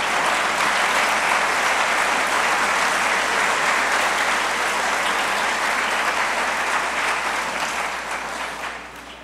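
A church congregation claps in sustained, dense applause that stays at an even level throughout and eases off slightly at the very end.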